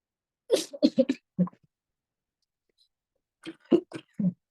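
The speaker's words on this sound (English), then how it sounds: "Sorry for the cough." Two short bursts of muffled coughing separated by a quiet gap, close and fairly soft.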